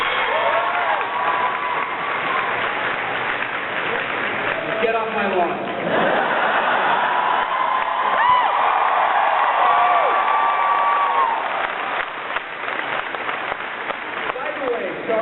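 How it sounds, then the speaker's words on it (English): A live comedy audience claps and cheers, a broad wash of applause and whoops swelling in the middle and tapering off, with a voice speaking over it at the start. "Clap if you were born after then."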